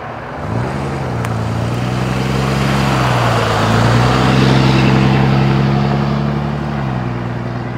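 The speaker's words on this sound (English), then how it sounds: "oh, there's a truck turning here." A large truck rumbles loudly nearby, its engine tone rising and shifting as it moves through a turn.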